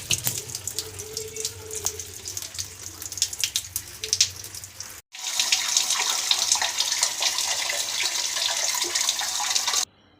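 Water rushes out through a repaired pipe at a home, a steady splashing flow close by that swells louder partway through and then cuts off abruptly.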